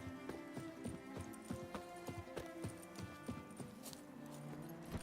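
Roach the horse galloping in The Witcher 3, a quick, even beat of hooves clopping across the ground, close and steady, with no voices.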